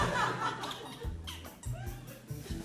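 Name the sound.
squeaky chair squeaking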